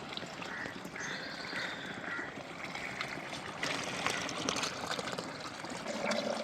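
Water runs steadily into a container to mix a homemade fish amino fertilizer, about fifteen litres in all, giving a continuous close trickling, gushing stream with no voices.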